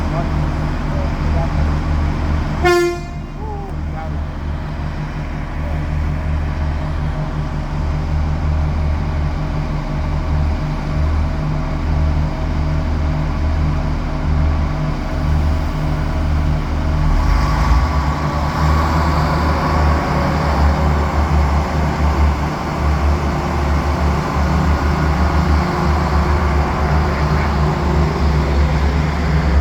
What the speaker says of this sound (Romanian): Da, cred că ăsta e trenul de 12 și 20,